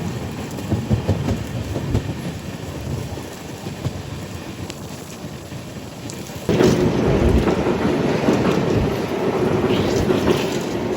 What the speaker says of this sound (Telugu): మన లోకోమోటివ్ వ్యాప్ 7 అయితే పుల్ చేస్తుంది